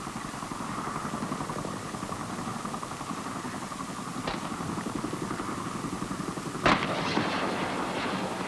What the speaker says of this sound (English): The crew jump off and prepare the gun for action.